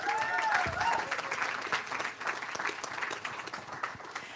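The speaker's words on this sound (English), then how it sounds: "Please give him a round of applause." Audience applause at a live political panel event in a pub, steady clapping from a crowd with a few voices and whistles mixed in, sustained throughout.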